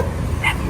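A dog at a home with many dogs gives one short bark, loud and close, over a steady low background hum.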